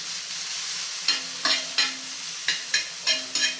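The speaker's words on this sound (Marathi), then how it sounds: "गॅस आपल्याला मीडियम टू हाय हीटवरच ठेवायचं आहे तर अशा पद्धतीने साधारण मला पाच मिनटं लागलेली आहेत आणि ह्या शिरा मी छान परतून" Ridge gourd peel sautéing in oil over medium-high heat, a steady soft sizzle punctuated by regular scraping strokes of a spoon against the pan, close and moderately loud.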